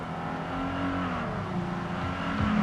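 A 1988 Chevrolet Beretta GT with a 2.8-liter V6 multi-port fuel injection engine accelerates hard, its steady engine drone climbing in pitch and staying loud and close throughout with no talking.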